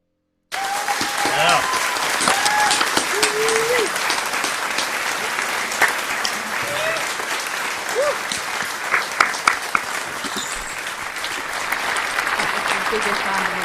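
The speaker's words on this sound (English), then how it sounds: "Biggest round of applause I have ever had to date." Enthusiastic audience applause right after a live song at a Camden live-stream music event: sustained close clapping with a few cheers and whoops scattered through it, going on steadily to the end.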